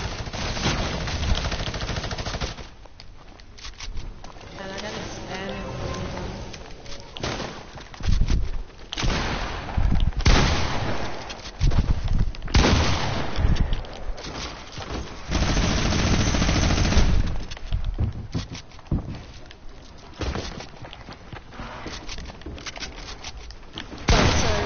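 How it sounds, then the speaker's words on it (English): A minigun fires in an online shooter game, long sustained bursts of rapid gunfire with booming impacts and brief pauses, loud and dense throughout. "Oh jeez, that guy's got a mini gun."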